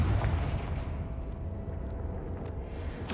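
A Confringo spell blast in the Hogwarts Legacy video game, a booming, rumbling explosion that starts loud and rolls on as a dense, low roar for about three seconds, with a sharp burst at the very end.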